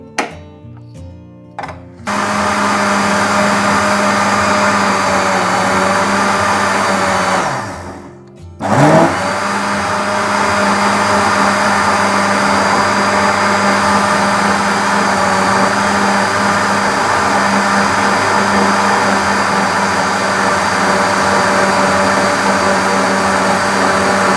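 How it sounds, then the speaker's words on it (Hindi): Loud, continuous whir of a blender motor running at full speed through cream and cold water, briefly stopping and restarting partway, then droning on steadily. "अब हम इसमें इसको ब्लेंड करेंगे"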